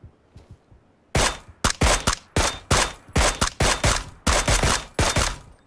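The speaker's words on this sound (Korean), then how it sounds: "오, 다른 데서 쏜다." Gunfire from another position in a video game: after a quiet start with a few faint taps, a series of about ten loud, sharp shots rings out in an uneven rhythm, each decaying quickly.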